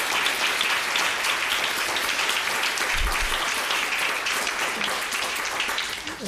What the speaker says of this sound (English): we can give them a little round of applause and thank them for all their great work